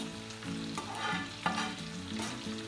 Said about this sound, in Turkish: Şimdi tavadaki mantarlarımızı, közlenmiş kapya biberlerimizi şöyle atalım.